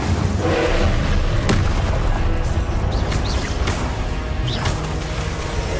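Fire spell blasts in Hogwarts Legacy, loud booming bursts over a dense, continuous roar of combat effects, with a few sharper cracks standing out.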